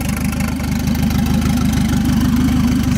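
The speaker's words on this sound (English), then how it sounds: "New exhaust." A turbocharged Volvo engine idles loudly and close by through a new exhaust, a steady low rumbling throb with a regular pulsing rhythm.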